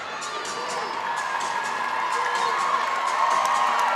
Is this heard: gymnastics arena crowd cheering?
yes